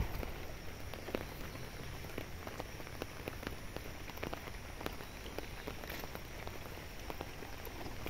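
Steady rain falls across a village in gathering darkness, a dense continuous hiss of drops pattering on surfaces close by, with no voices.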